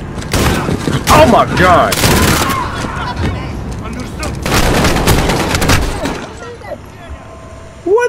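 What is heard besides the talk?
shotgun firing incendiary rounds, from video game Call of Duty Modern Warfare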